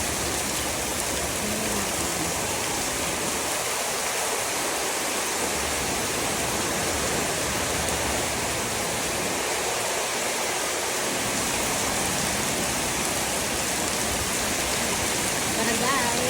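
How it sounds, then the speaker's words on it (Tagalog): Heavy rain pours steadily on a wet afternoon, a dense, constant hiss of downpour close by with no letup. "ang lakas po ng ulan po dito guys"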